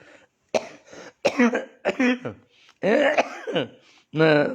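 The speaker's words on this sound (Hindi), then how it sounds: "ये तकलीफ वाली खांसी नहीं है, आप निश्चित रहें" A person coughs several times close by in short, raspy bursts, with some voiced, throaty sounds between them.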